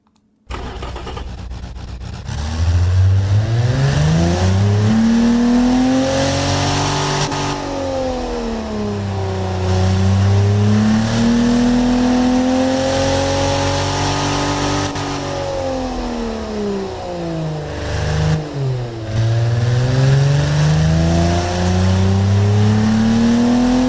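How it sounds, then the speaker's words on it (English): A simulated car engine from the game Automation, built as a BMW 507 competitor, starts and then revs up and down repeatedly in smooth rising and falling sweeps, loud and alone. "Let's hear the engine again, see if it's changed at all."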